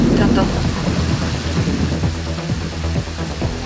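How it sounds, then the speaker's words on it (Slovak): A loud, close thunderstorm over a house after a severe windstorm, with heavy steady rain and deep rolling thunder rumbling throughout, nobody speaking. "A už to je len búrka"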